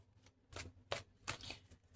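Tarot cards are riffled and shuffled in quick bursts, crisp papery flutters close up in a quiet room with no talking.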